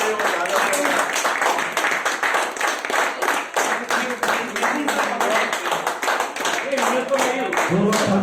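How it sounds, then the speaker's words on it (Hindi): Audience clapping at a personality development seminar, a sustained burst of many hands in steady rhythmic claps, loud and close, continuing with little talk. "तालियां बजाओ, तालियां उनको जोश बढ़िया दे रहे हो"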